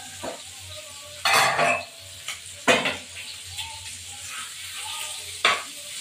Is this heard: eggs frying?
yes